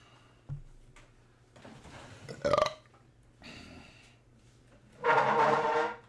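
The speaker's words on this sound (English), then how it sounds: "Now I'm burping peppers." Several deep, drawn-out burps come one after another after a meal of peppers, the loudest and longest at the end, each standing alone against a faint steady hum.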